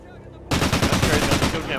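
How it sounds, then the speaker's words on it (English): A burst of rapid gunfire in an online shooter video game, a dense string of loud, quick shots that starts suddenly after a quiet lead-in and fills the rest of the moment. "I might have burst fired."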